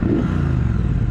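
A Triumph Speedmaster motorcycle engine on its stock exhaust gives a short, steady, close rumble with a slightly rough, clattery texture.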